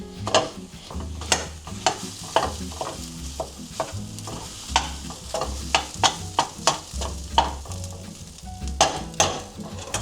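Purple rice frying in a pan for Indonesian nasi goreng, with a soft sizzle under rhythmic scraping and clinking of a utensil stirring against the pan, close and steady.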